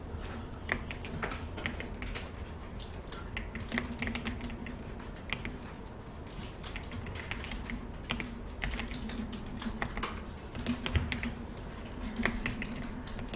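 A computer keyboard is typed on at a steady, irregular pace, the key clicks sounding close and crisp over a faint low hum, with no talking.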